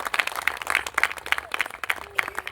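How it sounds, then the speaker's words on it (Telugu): Congregation at a church service in a village clapping loudly together, a steady run of dense overlapping claps with a few voices mixed in. "కొట్టు చప్పట్లు గట్టిగా."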